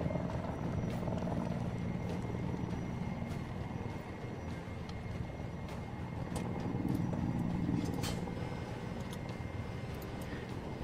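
Helicopter in the Arma video game, a steady loud rotor chop with low engine rumble, continuous and close with a slight swell partway through, no talk over it.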